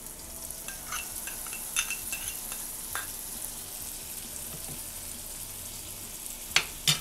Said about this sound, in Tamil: அதுக்கப்புறம் நம்ம அரைச்சி வச்சுருக்க இந்த கடுகு விழுதை வந்து இதில் சேர்த்துடலாம்.